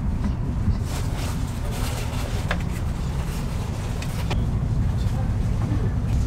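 Steady engine rumble and road noise from a red double-decker tour bus driving along an embankment in St Petersburg, a constant low drone with faint traffic sounds and no talking.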